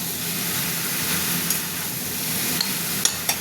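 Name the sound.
stirring cabbage with fish head frying in a pan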